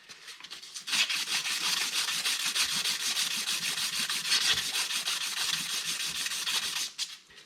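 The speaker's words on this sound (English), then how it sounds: "I will sand this piece here simply because it's a bit" Steady, gritty sanding scrapes against a rusty metal part from an Arctic Cat Wildcat 1000 HO, continuous and close for several seconds, starting abruptly and stopping near the end, with no talking.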